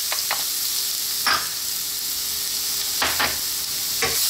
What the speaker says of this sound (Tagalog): So, gisa nyo lang natin sandali.